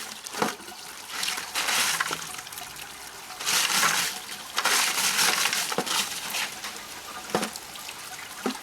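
Water is dumped and poured over rocks to wash them clean while panning for gold, giving several close splashing, trickling bursts separated by brief pauses, with gravelly rattles underneath.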